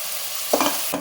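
Onions fry in a pan for chicken biryani, giving a steady loud sizzle with a few stirring scrapes near the end, no speech.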